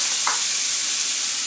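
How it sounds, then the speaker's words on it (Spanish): Onion with red and green peppers frying in a little oil in a skillet gives a brief, steady, close hiss of sizzling with no other sounds. "ponemos una sartén, le echamos un trocito de aceite y colocamos la cebolla, el pimiento rojo,"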